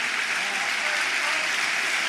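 Steady, dense applause from a football crowd at Blackburn Rovers' home match against Leeds United, filling the stadium evenly throughout with no break or talk on top.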